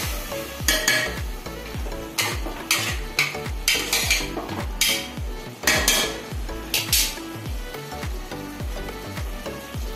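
A metal utensil stirs rice in a pot of boiling water, sounding as rapid, rhythmic clanks and scrapes against the pot, loud and close, with a faint bubbling beneath and no voices.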